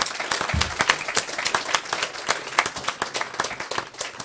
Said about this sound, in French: je vous demande d'applaudir Jean-Marie Schleret